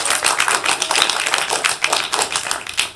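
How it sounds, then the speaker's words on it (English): A room of people claps for Mason at a city meeting, a brisk close patter of many hands sustained for a few seconds with no talk over it. "Everybody give Mason a big round of applause"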